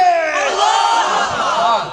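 Large crowd at a religious sermon calling out in unison, a sustained loud mass of voices chanting the takbir together, rising and holding for the whole stretch.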